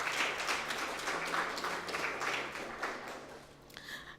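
An audience at a youth event applauds participants in a poster competition, a steady wash of many hands clapping at a moderate distance, tapering slightly toward the end.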